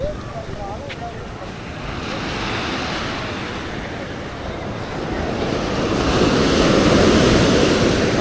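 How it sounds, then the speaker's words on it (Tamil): Ocean waves breaking on a beach at night along the ECR coast near Chennai, a continuous loud roar of surf with wind buffeting the microphone, swelling into a bigger crashing wave near the end. "அலை வேறு ஜாஸ்தி ஆகிட்டே இருக்குங்க."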